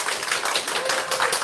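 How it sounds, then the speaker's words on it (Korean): An audience at a Korean sales training lecture claps in a brief, dense burst, steady and fairly close. "자, 우리 박수 좀 부탁드리겠습니다."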